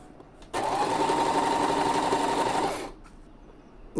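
A sewing machine runs a single continuous burst of about two seconds, joining two fabric pieces of a poncho kimono jacket, a close steady mechanical whir starting and stopping abruptly in a quiet room.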